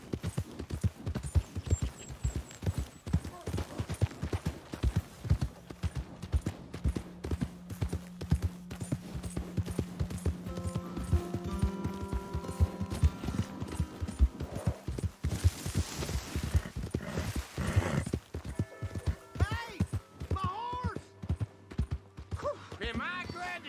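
Horse hooves clip-clop steadily in Red Dead Redemption 2, a continuous rhythmic stream of close, crisp hoof strikes lasting throughout, with occasional voices and tonal game sounds layered underneath.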